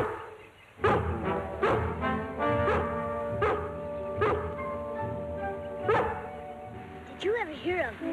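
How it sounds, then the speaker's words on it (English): A dog barks repeatedly near a lake in a 1960 television drama, a series of sharp close barks with whimpering yips at the end, heard under faint background sound. "Was that a bark? It came from the lake."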